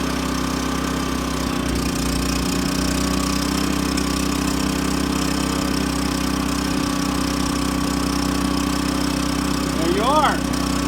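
A Champion 3400 watt dual fuel inverter generator runs on gasoline at close range, giving a steady, even mid-pitched engine hum with no change in pace, and a brief higher squeak comes near the end.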